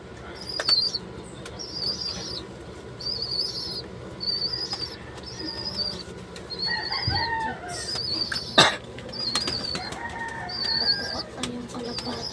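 Pigeons being fed on the floor flap their wings in repeated short bursts, close by, with scattered bird calls, faint chirps and a sharp knock in between.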